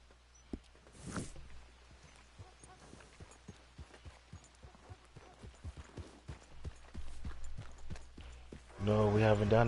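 Hooves of a horse in the video game Red Dead Redemption 2 clip-clopping in a steady walking rhythm, fairly close, with a brief burst of other noise near the end.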